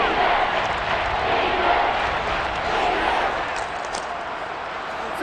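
Broad roar of a stadium crowd in Madden NFL 23 football, a steady dense wash of cheering swelling ahead of a big third down, loud and continuous with no distinct voices.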